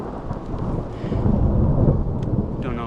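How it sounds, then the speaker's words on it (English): Steady rain outdoors with a deep, rolling rumble of distant thunder from a lightning strike building underneath, loud and continuous throughout. "Another lightning strike."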